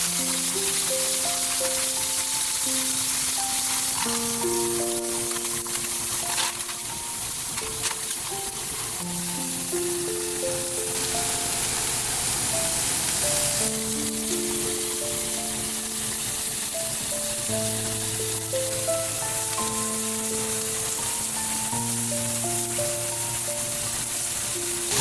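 Chinese cumin-seasoned meat skewers sizzle on a BBQ grill, a steady crackling fry that runs continuously beneath a melodic background music track.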